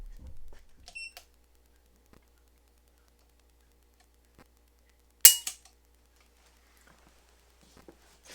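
Single-action trigger pull on a Smith & Wesson Model 66 Combat Magnum revolver with a 3-inch barrel: one sharp, crisp click midway through an otherwise quiet stretch, preceded by a softer faint click.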